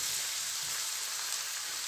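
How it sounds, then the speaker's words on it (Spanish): Onions sauté in a pan over medium heat with a steady, soft sizzle and crackle, even and unbroken, with no voices. "Y lo vamos a ir rehogando"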